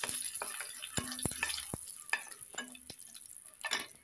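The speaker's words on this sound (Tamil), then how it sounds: "பிச்சு போட்டு நல்லா மிக்ஸ் பண்ணிக்கோங்க" Dal and dried chillies stirred in a hot pan for chayote poriyal, a soft steady sizzle with scattered scraping knocks of a spoon against the metal, close and fairly quiet, no talking.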